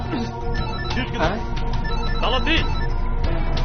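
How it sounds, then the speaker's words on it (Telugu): A telephone rings steadily with a repeating electronic tone, while voices talk over it throughout. "అరే ఏంటి ఇక్కడ ఫోన్ రింగ్ అవుతుంది."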